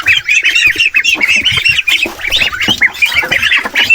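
Wild ducks kept on a farm squawk and quack in a dense, continuous chorus, many birds calling over one another close by for the whole stretch, with no talking.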